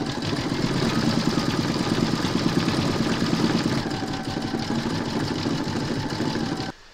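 An embroidery sewing machine satin-stitches the black eye of an appliqué parrot, a steady, rapid mechanical hum and rattle running at even volume throughout, then stopping just before the end.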